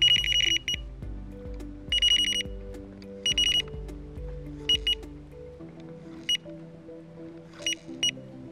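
Bite-alarm tones chirp in short, separate bursts of varying pitch, quieter and fainter toward the end, with soft music playing underneath.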